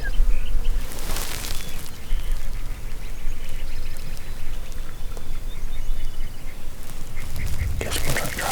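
Wild turkeys call in Mexico, bursts of gobbling and clucking cutting through a steady outdoor wash, loudest near the start and end, fairly near and alone without talk.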